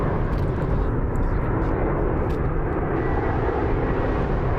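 An American Airlines Airbus A321-200 arriving at Las Vegas produces a steady, loud, broadband jet engine roar that holds constant throughout, with no talking over it.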